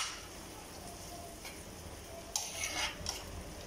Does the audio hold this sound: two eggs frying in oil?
yes